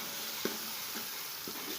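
Raw masala for chicken biryani fries in a pan with a soft, steady sizzle, while a spoon stirs it in three short scraping strokes, close and quiet.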